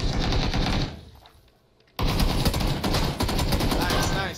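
Rapid bursts of automatic gunfire in a multiplayer shooter game, loud and continuous, pausing briefly before another sustained volley.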